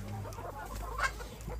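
Chickens on a local poultry farm, soft scattered clucks over a steady low background hum, fairly faint and continuous for a moment.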